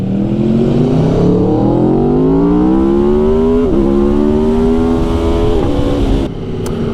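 An Aprilia Tuono V4 1100 Factory motorcycle with an Akrapovic exhaust, a 2019 model, revs hard and accelerates through rising gears with a loud, close, continuous V4 engine drone, and it drops off briefly near the end.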